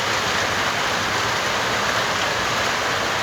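A rainstorm pours in a loud, unbroken roar of falling water, uniform and close throughout with no voices.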